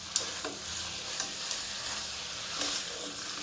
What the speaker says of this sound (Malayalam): ചിക്കൻ്റെ നിറമൊന്ന് മാറി വരുന്നിടം വരെ നമുക്കൊന്ന് വഴറ്റിയെടുക്കാം.